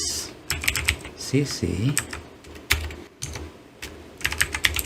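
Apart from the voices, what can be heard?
typing Python code on a computer keyboard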